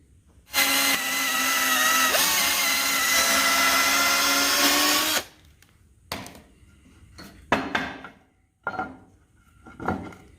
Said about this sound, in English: I have the spots marked where we're gonna drill them